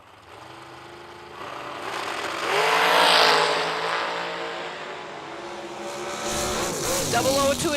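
Heads-up drag race at an end-of-year drag racing event, cars roaring loudly off the line and building to a peak before easing, with a further burst near the end and a commentator talking over the engines.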